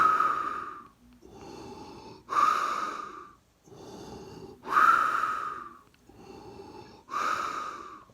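A person's voice imitating Darth Vader's mechanical breathing: slow alternating raspy inhales and exhales, about three full cycles, close and steady, with no words spoken.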